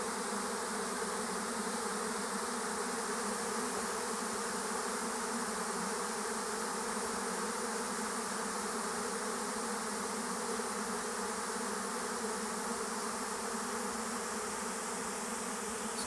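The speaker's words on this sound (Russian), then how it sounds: "Сколько пчел улетает." Swarm of honey bees, a prime swarm leaving the hive and settling on branches, producing a dense, steady droning hum that fills the air continuously without pause.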